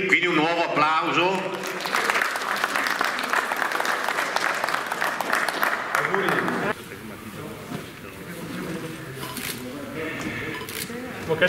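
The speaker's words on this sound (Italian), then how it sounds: "New entry, quindi un nuovo applauso." Audience applause greeting a new entry, a burst of clapping from a gathered crowd that drops to a quieter patter partway through, with voices heard faintly beneath.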